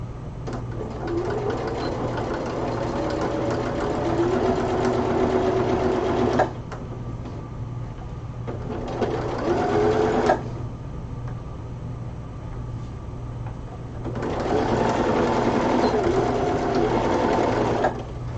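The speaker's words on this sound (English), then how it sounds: "and now I'm going to sew it." A home sewing machine stitches a fabric seam for a cosplay costume in three bursts of steady, close whirring, with short pauses between runs and no talk.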